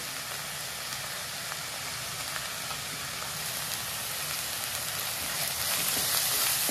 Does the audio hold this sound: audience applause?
no